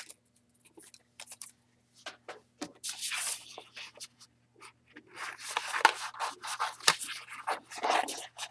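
Scissors snip and scrape through stamped paper to cut out a small hat shape, giving soft, irregular clicks and rustles that come in close, quiet bursts, with no one talking.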